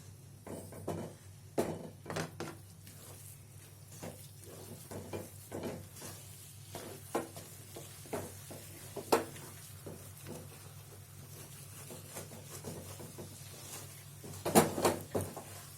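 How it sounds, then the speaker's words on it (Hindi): Chana dal halwa stirred quickly in hot ghee over a full flame: steady sizzling with repeated scraping strokes of the spoon across the pan, over a low burner hum. "इस तरीके से जल्दी जल्दी हम चलाते जाएंगे इसे"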